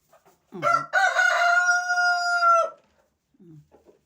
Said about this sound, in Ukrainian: А півень співає свої пісні, йому весело.